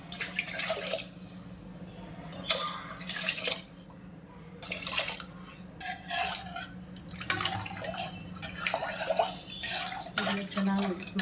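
Rice and toor dal mixed with water in a pot and stirred by hand, giving repeated wet sloshing, scraping and dripping sounds in uneven bursts, close by, with faint background hum.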